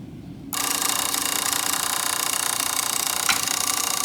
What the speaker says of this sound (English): The noise you hear once we start is going to be that of the timer.